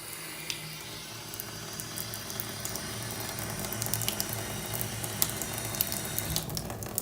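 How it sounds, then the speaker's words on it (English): Water runs steadily from a tap into a bathtub that has a newly replaced drain, making a continuous splashing hiss with small gurgles, fairly close and with no talking. "You can put a little water in."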